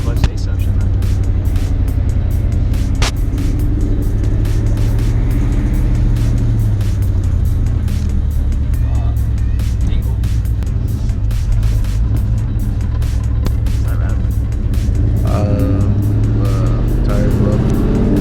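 Terminator Cobra with a sticky gas pedal and a stiff clutch drives along, its engine droning loud and steady throughout with shifting revs, while people talk over it.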